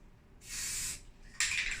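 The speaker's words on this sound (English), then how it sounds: "I want to get that spray paint in there right away so I can get that drip started." An aerosol spray paint can hisses onto an acrylic abstract painting in two short bursts, the second sharper and louder, with quiet gaps between.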